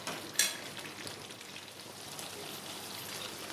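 Chicken masala with kasuri methi frying in a pan and being stirred, a faint, close, rain-like sizzle with one sharper scrape near the start and no voices.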